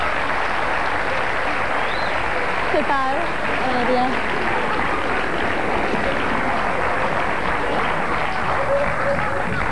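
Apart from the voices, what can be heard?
studio audience applause for guest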